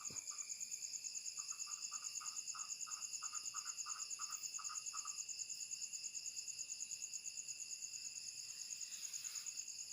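A toad being eaten by another toad gives a rapid run of short, evenly spaced croaking pulses that stops after a few seconds. A steady, shrill chorus of crickets and insects continues throughout, fairly faint overall.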